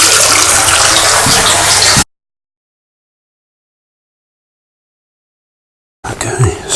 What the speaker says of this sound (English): We fill this up with water, like so.